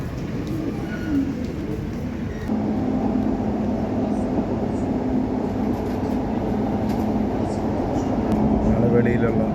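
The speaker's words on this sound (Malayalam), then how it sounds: "ഗ്രീക്ക് മെട്രോയിലോട്ടാണ് പോകുന്നത് കേട്ടോ." A Dubai Metro train rumbles steadily and grows louder after a couple of seconds, holding a constant drone to the end.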